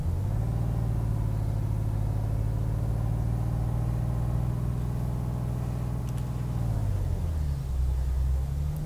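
A heavy truck engine in Euro Truck Simulator 2 pulls away in first gear, a loud steady low drone that holds its pitch for several seconds before dropping and settling into a lower rumble.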